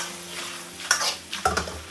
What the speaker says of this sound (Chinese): 红椒一起给它炒一下。